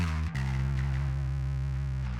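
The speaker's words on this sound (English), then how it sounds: "if you want even more distortion, just add more top end" An electric bass guitar runs through a Boss ODB-3 bass overdrive pedal and holds a thick, distorted sustained note. A brief dip comes near the start, then the tone rings loud and steady, with no talking.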